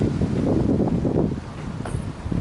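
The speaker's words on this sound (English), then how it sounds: "So it's getting a bit windy now." Gusty wind blusters steadily against the microphone outdoors while someone sits among flocking birds, a continuous low rumble that eases briefly midway before picking up again.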